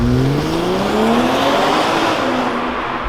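A BMW 540i xDrive accelerates hard at full throttle from a standstill on a cold, slippery day, its engine note climbing steadily and loudly through the gears with continuous road and tire noise.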